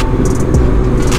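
A car rumbles loudly close by as its engine builds under acceleration, a dense low drone with a few brief higher hisses, no speech.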